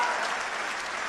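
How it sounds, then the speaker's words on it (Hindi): Audience applause at a spoken event, a dense, steady wash of many hands clapping at once, loud and continuous for about a second. "और अब आपकी तालियां उठेंगी।"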